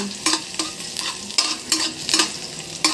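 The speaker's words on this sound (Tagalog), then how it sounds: "dyan ko na rin nilalagay itong bawang para igisa" Garlic sautéing in a pan while being stirred, with soft repeated scraping strokes at a steady rhythm over a faint sizzle, close up and fairly quiet, with no voices.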